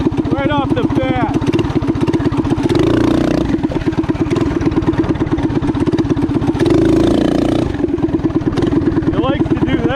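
A small engine with a torque converter, such as a go-kart, runs loud and close with a pulsing, chattering note, revving up in two strong surges between stretches of rough idle while people talk over it.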